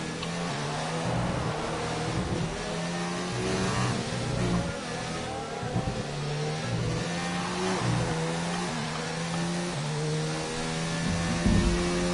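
Race cars including a Ferrari on the Abu Dhabi circuit in a racing video game, with several engines droning and shifting pitch together, loud and continuous throughout.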